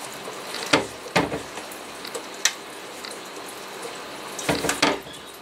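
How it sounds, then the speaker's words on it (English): Whey drips from cheese curds hanging in a cloth from a cupboard knob, falling as a few sharp, irregular drops and small splashes into a vessel below, close by and fairly quiet, with no talk. "let it drain until it stops dripping"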